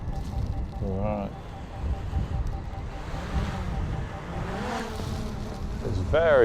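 Strong gusts buffet a small DJI Mic Mini on a windy day outdoors, producing rumbling, roaring low-end wind noise that surges and fades throughout, with occasional brief voice fragments.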